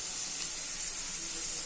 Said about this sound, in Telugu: 1 స్పూన్ అల్లం వెల్లుల్లి పేస్ట్ వేయాలి.